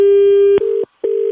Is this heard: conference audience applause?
no